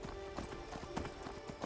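Hooves of a horse being ridden in Skyrim, a steady rhythmic clip-clop of repeated hoof strikes at a trot, close and fairly loud over a dense game ambience, with no talk.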